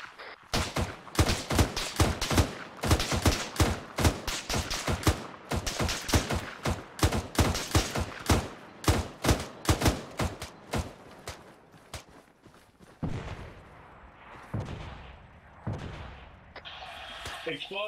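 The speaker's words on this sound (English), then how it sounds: "Explosives sound like mortars." Dense, rapid bursts of loud blasts and gunfire-like cracks from combat in the military video game Arma 3, thinning after about twelve seconds into scattered, quieter distant booms.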